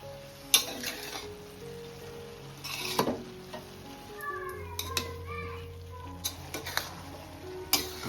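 Oworna flower greens are stirred and fried in a pan over a fast gas flame, soft scraping and light sizzle with scattered utensil clinks, while children's voices chatter in the background.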